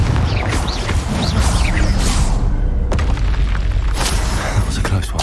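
A Confringo spell explodes in the video game Hogwarts Legacy, a loud rumbling blast with crackling bursts that runs through the clip amid ongoing combat effects, with a voice heard over it.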